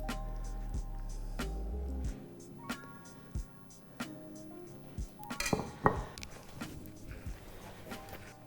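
Moroccan harira soup is ladled into a small plate, with clinks and knocks of a ladle and dishes, a cluster of louder clatter and scraping near the end, then quiet.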